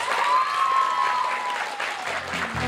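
Applause from an audience at a student concert, steady clapping filling the room throughout with a faint tonal note from an instrument fading underneath.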